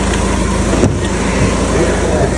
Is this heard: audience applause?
no